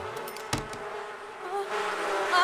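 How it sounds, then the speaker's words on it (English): Bees buzzing in The Sims 4 as a character in a beekeeper suit tends the hive, a steady insect drone with a brief knock early on and a louder, brighter buzz building toward the end. "she wants to bond with the bees"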